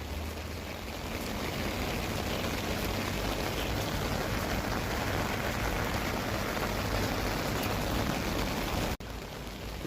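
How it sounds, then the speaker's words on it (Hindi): Heavy rain pours down in a steady, dense roar that runs without letup for the whole stretch, close and loud, with no voices. "देखिए दोस्तों, कितना तेज़ बारिश हो रहा है।"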